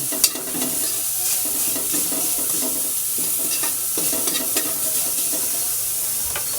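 Galunggong fish frying in a little cooking oil, a close steady sizzle with a rhythmic series of stirring and scraping sounds, no talking.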